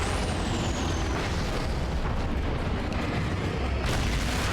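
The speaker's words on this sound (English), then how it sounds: "Flashbang." A flashbang grenade goes off in the video game Alan Wake: a loud, sustained broadband roar with a thin descending whine at the start, surging again near the end.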